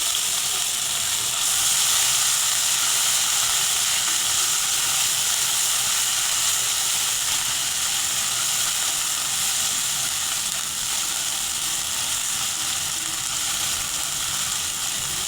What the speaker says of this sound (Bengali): কিছুক্ষণ ভেজে নেব।